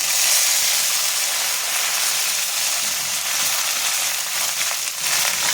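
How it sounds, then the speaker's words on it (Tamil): Mustard seeds and urad dal fry in hot oil, making a loud, even hiss and sizzle that runs the whole time with faint crackles and no voices. "இப்போ கடுகு உளுத்தம் பருப்பு போட்டுப்போம்."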